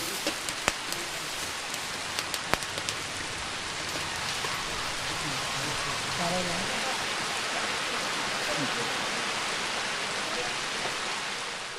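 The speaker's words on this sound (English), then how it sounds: "It's raining." Steady rain falls in India, a dense even hiss of drops with a few sharp ticks at the start, continuous and fairly close throughout.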